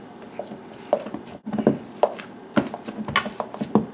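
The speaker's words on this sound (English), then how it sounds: "Transfer the drained potatoes to a large bowl and mash them, but coarsely." Drained potatoes are coarsely mashed in a large bowl for samosas, producing a series of close, irregular thuds and soft squelching knocks at about one or two per second.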